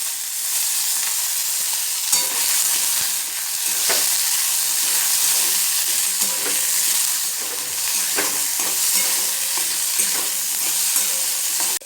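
Chopped tomatoes sizzle and fry steadily in hot oil tempered with whole cumin seeds, a dense continuous crackle with occasional stirring scrapes and no voices.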